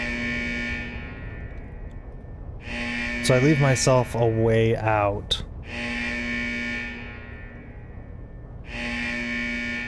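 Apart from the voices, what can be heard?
loud door buzzer in Call of Duty DMZ video game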